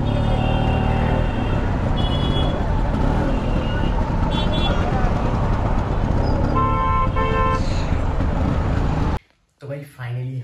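Busy road traffic in India heard from a scooter road trip, a constant engine and tyre roar with repeated car horns tooting in short bursts, louder clusters of honks near the end before the noise cuts out abruptly.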